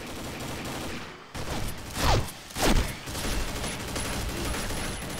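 Two heavy 12-gauge shotgun blasts in a video game ring out about half a second apart, loud and booming with short tails, over a steady background of game sound.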